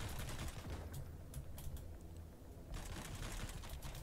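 Distant gunfire in the survival game Sunkenland: a scattered patter of faint shots with quick crackling bursts over a steady low background rumble, far off and muffled.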